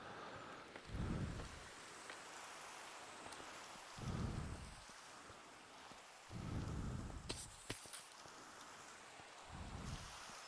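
Minecraft rain falls as a soft continuous hiss in the game, faint overall, with low rumbling swells recurring every few seconds beneath it.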